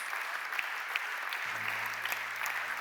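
Applause from a church congregation after a prayer, a steady dense patter of many hands clapping throughout, with a low hum entering midway.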